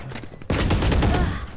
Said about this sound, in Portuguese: Nossa, errei o tiro, hein.